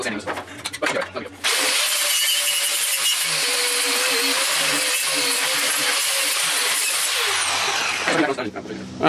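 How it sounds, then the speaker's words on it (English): A power sander works on metal, grinding and whirring steadily for several seconds, a continuous loud abrasive hiss with a faint whine, starting and stopping abruptly. "I did a lot more sanding than I originally anticipated"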